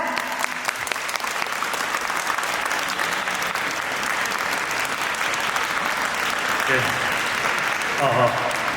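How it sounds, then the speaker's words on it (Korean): An audience at an outdoor civic cultural festival applauds steadily and loudly throughout, a dense wash of clapping that swells slightly toward the end. "큰 박수 부탁드립니다."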